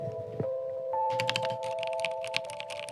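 Rapid clacking keystrokes on a budget mechanical computer keyboard, a steady close-up patter of typing over a sustained electronic tone, with no talk.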